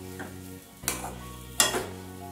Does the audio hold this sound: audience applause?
no